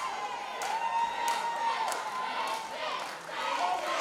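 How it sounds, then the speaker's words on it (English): A capacity sellout crowd at Kingsway Hall cheers and shouts in unison for a wrestler at a live wrestling show, a loud, sustained roar of voices with chanting swells and a brief dip near the end. "Kingsway Hall bellowing Richie's name in support"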